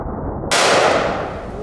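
A single loud, sharp blast from a Smith & Wesson Performance Center 460 Smith & Wesson Magnum revolver with a 3-inch barrel, cutting in abruptly and ringing out into a long decaying echo.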